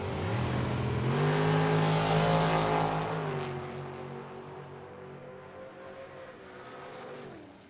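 A 1984 Camaro and a dragster at a Tucson drag strip roar loud and close in a sustained engine blast, then ease into a lower, steady drone that rises again at the end. No voices.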